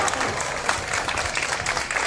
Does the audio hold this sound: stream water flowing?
no